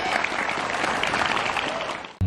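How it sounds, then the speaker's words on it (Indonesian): Scouts from an elementary school troop clap their hands in a dense, lively burst of applause that cuts off abruptly at the end. "Tepuk tangan."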